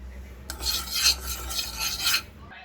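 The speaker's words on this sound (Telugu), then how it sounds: "ఒక ప్యాన్ తీసుకొని ఒక టీ స్పూన్ మెంతులు ఒక టీ స్పూన్ ఆవాలు తీసుకొని లో ఫ్లేమ్లో కొద్దిగా కలర్ చేంజ్ అయ్యే వరకు ఫ్రై చేసుకోవాలి" A teaspoon each of fenugreek and mustard seeds is dry-fried over low flame in a pan, stirred with a close, rasping scrape and rattle that swells and fades for about two seconds, then stops.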